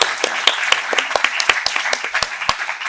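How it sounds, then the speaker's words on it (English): Short burst of audience applause at a PhD symposium closing ceremony, a small crowd clapping in clearly separate, fairly sparse claps for about three seconds. "Maybe we can give another round of applause."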